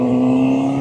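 A Triumph Street Triple 765RS accelerates in sixth gear at low speed, a steady close engine drone with a firm tonal hum over a very short stretch.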